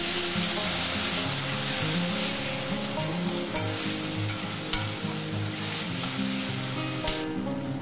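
Steady loud sizzling fills a frying pan of banana flower curry after a splash of water and poppy seed paste go in, with several sharp spoon scrapes and taps as it is stirred.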